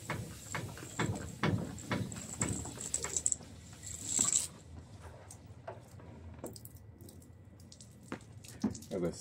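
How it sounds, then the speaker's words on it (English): Water trickles and drips off rooftop solar panels as they drain after a rinse, with a run of irregular patters and splashes that are louder at first and then thin out to sparse, faint drops. "I let the remaining water drain."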